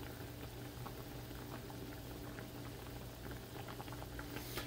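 Pretzels boil in a pot of water, a steady soft bubbling and faint popping burble that holds evenly throughout, close but quiet, with no talking.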